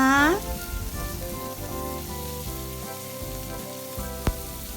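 Thin slices of pork belly stir-frying with ginger in a hot pan give a steady, moderate sizzle. A tonal musical backdrop runs underneath, and a single sharp knock lands near the end.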